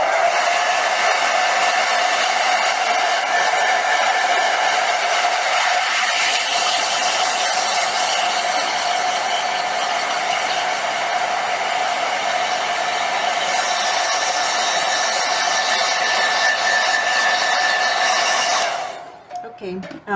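A hair dryer runs steadily and loudly for about nineteen seconds, drying a watercolor painting of a peacock feather done with metallic watercolors, then cuts off abruptly at the end.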